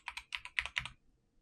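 A short burst of keystrokes on a computer keyboard types a word: about eight quick, crisp taps close by, then silence, with no talking.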